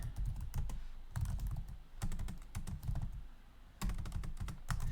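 Fast typing on a computer keyboard, close and steady with dense clusters of key clicks and thumps broken by brief pauses, no voices.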